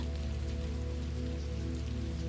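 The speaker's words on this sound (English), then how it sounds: "The warm rain fell with a gentle weight, its drops thick and soothing, like a soft embrace." Warm rain falls in a steady, even patter, a soft continuous wash mixed with a low sustained ambient hum and no voices.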